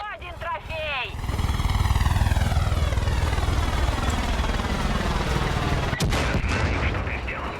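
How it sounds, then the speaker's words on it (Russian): Helicopters roar loudly overhead in the video game Far Cry 5, a sustained thudding, whooshing drone mixed with bursts of gunfire. "Замечены еще вертолеты."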